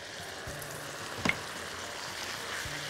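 Flour being stirred into chicken in a pan with the liquids cooked down, a steady low sizzle with a spoon scraping and a brief sharp clink near the middle, no talking.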